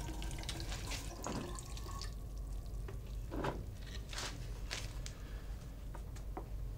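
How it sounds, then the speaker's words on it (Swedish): Water drains from a small groundwater experiment model, a steady close trickling and splashing flow with brief gurgling bursts, running continuously without any talk. "Så tappar jag ut lite vatten."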